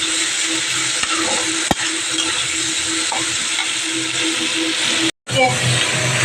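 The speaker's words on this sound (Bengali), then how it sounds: "আলুটা ভাজা হয়ে গেছে।" Potatoes frying in a pan while being stirred, a continuous loud sizzle with occasional scrapes and clicks of the utensil, running steadily throughout and briefly cutting out near the end.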